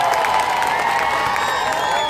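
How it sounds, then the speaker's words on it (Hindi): A large crowd at a gathering applauds and cheers, a dense continuous wash of clapping with a few shouts and whoops, loud and steady throughout. "जोरदार तालियां बजा के इनका शुक्रिया अदा कर दीजिएगा"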